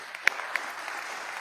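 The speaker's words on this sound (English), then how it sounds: "Let's give a round of applause" Applause from a panel audience at TIFF, a light, steady patter of clapping with a couple of sharper claps standing out, moderately distant and fairly soft throughout.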